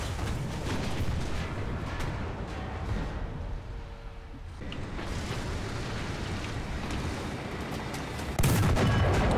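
Tank cannon fire and battle noise in War Thunder, dense and loud throughout, with a deep muffled lull midway and a sharp, heavier blast near the end.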